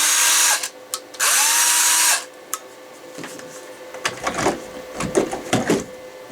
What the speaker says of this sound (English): running this old Makita drill that runs off of 11 volts